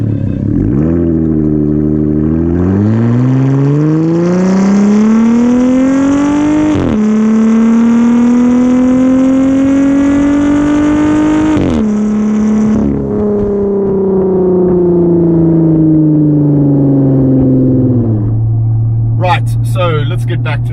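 Jeep Gladiator with an aftermarket exhaust revving hard before off-road driving, its engine note climbing and falling through several loud, sustained rises over about twenty seconds, close and steady.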